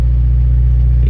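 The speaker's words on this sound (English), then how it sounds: "you can hear it knocking right now" A Subaru WRX engine with a rod knock runs close by, a loud steady low rumble with a faint rapid ticking texture over the brief moment.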